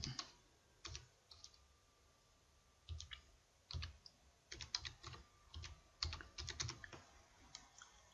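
Typing on a computer keyboard, with close, faint clusters of rapid key clicks in irregular bursts separated by short pauses, with no one talking.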